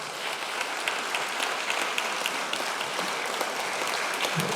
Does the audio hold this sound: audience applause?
yes